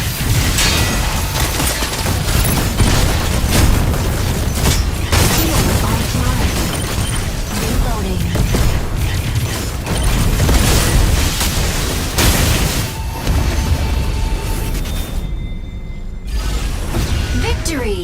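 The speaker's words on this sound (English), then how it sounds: "About to lay down the barrage!" A mech barrage in the game Mecha Break unleashes continuous booming explosions and rapid bursts, loud and dense throughout, with a brief lull near the end.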